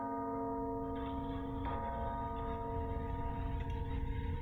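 A bell chime rings in the game Milgram, a sustained tone with layered ringing overtones and a couple of fresh strikes partway through, steady and fairly loud.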